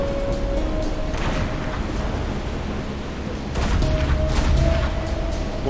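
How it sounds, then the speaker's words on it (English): A deep, rumbling explosion in the video game Reverse: 1999 rolls out as a sustained, loud noisy roar, swelling briefly toward the end, with no talk over it. "that explosion came from over by the lifeboats"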